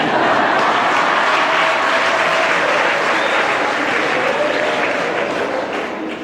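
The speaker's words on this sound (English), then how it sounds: "they will clap for him." A church congregation claps in thick, continuous applause for a newly ordained priest, steady throughout and tapering slightly at the end.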